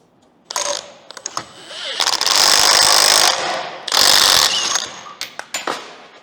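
Impact wrench spinning a thread die down a bolt on a 1952 Caterpillar D4 dozer that sat over ten years: two loud sustained rattling bursts of about two and one seconds, bracketed by short clanks and taps of the tool.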